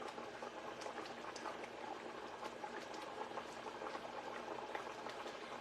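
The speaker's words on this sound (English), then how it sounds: "And I've got this boiling pretty good" Onion gravy boils in a pan with a dense, steady bubbling and popping, soft and close, continuing evenly without a break.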